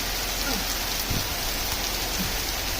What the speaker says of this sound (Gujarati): એટલો બધો વરસાદ આવે છે કે અમારા ગામમાં પૂર આવી શકે છે